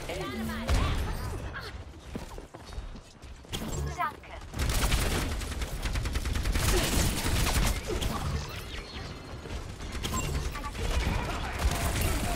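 Rapid bursts of Overwatch 2 gunfire and impacts crackle over a busy, cluttered mix, with a voice talking intermittently underneath.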